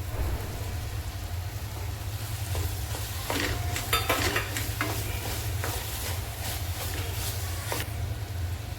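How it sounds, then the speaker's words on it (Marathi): Soybeans being stirred into a spicy masala gravy in hot oil, with a steady low sizzle throughout and several sharp scraping stir strokes in the middle, close by and without talk. "सोयाबीन टाकल्यानंतर 1 मिनिटभर आपल्याला असं छान परतून घ्यायचं आहे"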